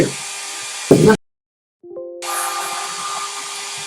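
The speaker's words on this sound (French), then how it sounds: "Enfin, que le sèche-cheveux s'arrête." A hair dryer whirs, cuts out abruptly into silence, then starts again with a rising tone and keeps blowing steadily.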